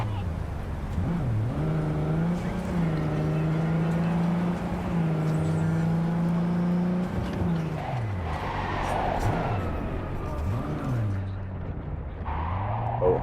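First-person car driving in Cyberpunk 2077, a steady engine drone holding pitch with rises and dips as the car revs and shifts, loud and continuous under muffled background game chatter.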